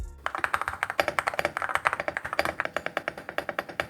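Rapid, steady typing on a mechanical keyboard with smooth linear switches, a dense run of crisp, close keystroke clicks and clacks with no talking over them.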